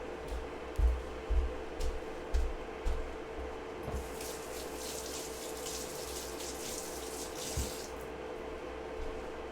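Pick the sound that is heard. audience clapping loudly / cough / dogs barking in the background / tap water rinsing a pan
tap water rinsing a pan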